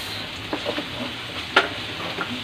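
Garlic and onion frying in a pan give a steady, moderate sizzle, with a few light scrapes and one sharper utensil knock partway through, and no voices.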